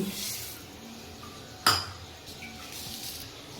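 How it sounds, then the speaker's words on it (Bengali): Sugar tips into a wok of water for syrup, a sharp metallic clink of a spoon against the pan rising briefly over a quiet hiss, with no talking. "এবার আমরা এর মধ্যে দিয়ে দেবো চিনি"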